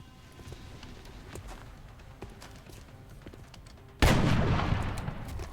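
A quiet stretch of faint scattered clicks from the XCOM Long War strategy game, then a single loud gunfire burst erupts near the end and rings out with a rumbling tail.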